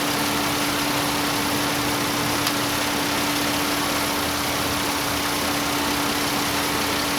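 Chevy Venture van engine idling with both electric cooling fans spinning, a constant loud broadband whoosh of air over a steady low engine hum and a faint tonal whine, no talking.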